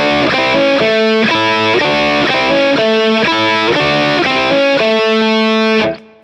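An overdriven electric guitar plays a blues rock lick of repeated double stops in a quick, choppy rhythm. It sounds loud and alone and ends with an abrupt cutoff.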